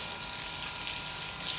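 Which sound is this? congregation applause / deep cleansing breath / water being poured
water being poured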